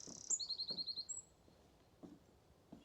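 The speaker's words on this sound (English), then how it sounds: "Beautiful bird song." Small songbirds chirp in a Norfolk Broads nature reserve, a quick run of high rapid tweets followed by a few scattered softer calls against a quiet outdoor background.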